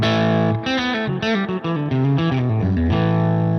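Distorted electric guitar plays a short run of approach tones resolving to target notes, a steady, loud, effects-laden line of sustained and moving notes, heard alone without talk.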